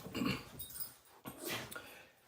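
A dog named Shaggy, just back from running around the corner, makes close, restless sounds, with panting breaths, a soft whimper and jangling keys or tags over about two seconds and no talking.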